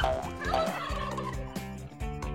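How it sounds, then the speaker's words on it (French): A turkey gobbles loudly in several rapid, rattling bursts, close and clear, with no talking. "La dinde de Bart lui échappa des mains"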